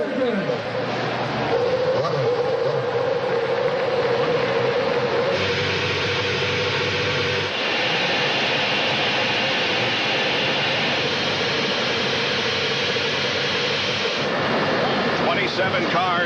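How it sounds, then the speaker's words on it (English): A field of IndyCar race cars firing their engines to life at Kentucky Speedway in 2010: a loud, dense roar of many engines that swells and then holds steady, with a commentator talking over it. "7 cars now begin to fire to life"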